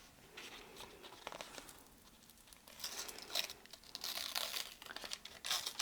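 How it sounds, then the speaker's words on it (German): Paper backing being peeled off a fabric chameleon appliqué patch for a tropical-house quilt, a close, crisp crinkling and tearing rustle that builds in bursts, with no talking. "Ich nehme das Papier ab, das Trägerpapier"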